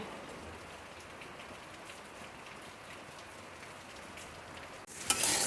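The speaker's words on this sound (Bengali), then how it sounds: "দেখুন বাইরে কত বৃষ্টি পড়ছে" Steady, dense rain pouring outside, a continuous hiss of drops on surfaces, with a brief louder clatter near the end.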